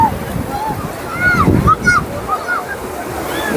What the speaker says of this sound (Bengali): দেখুন এখানকার কত সুন্দর ঢেউ